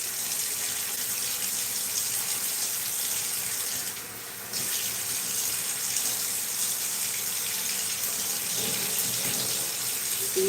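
Tap water runs in a sink while a wig is washed with shampoo, a steady loud gush that dips briefly once then continues unbroken, close by and with no talking.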